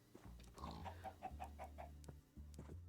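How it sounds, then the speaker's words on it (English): A Minecraft chicken clucks in a quick run of short, pitched calls over a low steady game background, fairly close and clear with no talking. "here's a chicken."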